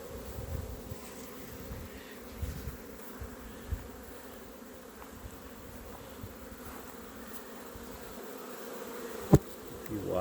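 Honey bees fly around the hives in an apiary, a steady close buzzing drone with some louder passes, continuous throughout with no speech.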